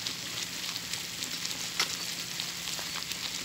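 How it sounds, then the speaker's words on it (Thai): Coconut milk bubbling with curry paste in a pan for a chicken curry, a dense, steady crackling sizzle with scattered pops, close and moderately quiet, no voices. "มันเดือดแป๊ะอย่างเงี้ยกะทิเขาเรียกกะทิแตกมันเลยแป๊ะอย่างเงี้ย"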